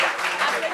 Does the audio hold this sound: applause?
yes